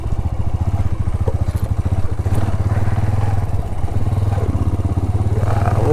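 A motorcycle engine putters steadily at close range in a busy parking area, its rhythmic thumping firing pulses continuous throughout with a faint clatter.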